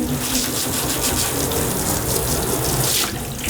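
Water gushes steadily and loudly from a tap, with a dog playing in the stream, a continuous close splashing rush throughout with no clear speech.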